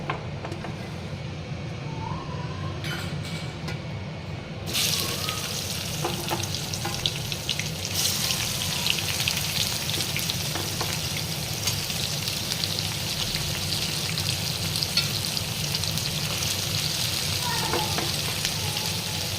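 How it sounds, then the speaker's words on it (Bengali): Chopped onions hit hot spiced oil with caramelized sugar for a mutton curry, setting off a steady, loud, continuous sizzle that intensifies partway through and holds without pause. "এবার আমি এর মধ্যে দিয়ে দেবো আগে থেকে কুচিয়ে রাখা পেঁয়াজ"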